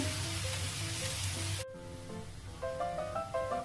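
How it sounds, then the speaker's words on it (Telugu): A moong dal omelette fries in oil after flipping, a loud, bright sizzle that fills the first second and a half, then cuts off abruptly to a quieter, tonal background. "సెకండ్ సైడ్ ఫ్లిప్ చేసుకోవాలి. కొంచెం ఆయిల్ వేసుకుందాం."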